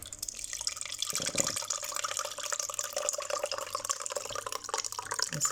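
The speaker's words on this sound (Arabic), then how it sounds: "غندير فيها الصفاي وغنصفيه هنايا" Orange pulp and juice strained through a sieve into a bowl, a steady close trickle and patter of liquid with small drips running throughout.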